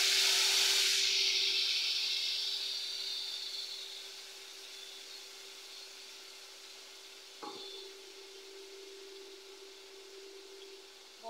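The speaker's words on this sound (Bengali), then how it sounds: "আর এখন একটু মরিচ ভেজে নিয়ে তার মধ্যে দিয়ে দিচ্ছি মশলা।" Chillies and spices hit hot oil in a pan with a loud sizzle that gradually fades to a quieter, steady hiss, with one brief clink of a utensil midway.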